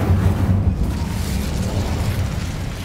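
The Incendio fire spell bursts in Hogwarts Legacy as a loud, close, rumbling whoosh with a deep low boom, swelling at the start and then sustaining a rough roar.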